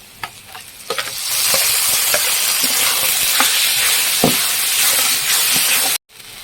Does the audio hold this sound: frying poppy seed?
yes